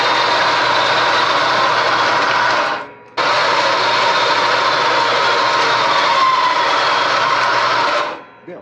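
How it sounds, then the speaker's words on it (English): A bandsaw cuts through metal pieces with a loud, steady grinding whine, running continuously for about three seconds, pausing briefly, then cutting again for about five seconds before winding down. "So we've got it set up here in the bandsaw. Let's go ahead and see if we can get these things cut off."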